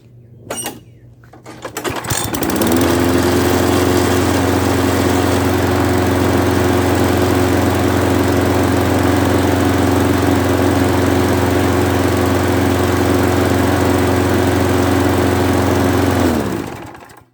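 A flathead lawn mower engine turns over with a few pulls, catches, and runs at a steady loud drone before cutting off near the end.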